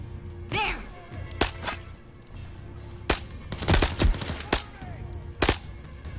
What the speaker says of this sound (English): There is distinct gunfire out there.